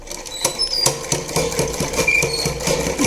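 A sewing machine stitches a gathered puff sleeve for a blouse, running loud and close in a fast, even mechanical rhythm of needle strokes without a break.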